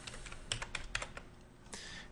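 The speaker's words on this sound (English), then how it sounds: "So just start typing some random values" Quick keystrokes of random numbers typed on a computer keyboard, a loose burst of clicks with short pauses between clusters, close and fairly quiet with no voices.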